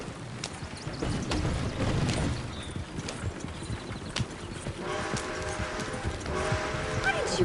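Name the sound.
horse galloping hooves, from the video game Red Dead Redemption 2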